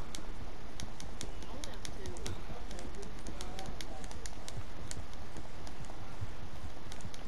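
A horse gallops in Red Dead Redemption 2: a quick, regular thud of hoofbeats runs steadily over a constant outdoor ambience at moderate volume.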